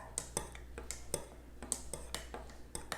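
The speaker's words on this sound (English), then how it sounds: "I use my big spoon to stir that." A big spoon stirs a cup of hot chocolate elixir with hot water, clinking against the sides in a quick, irregular series of sharp taps, close and fairly soft.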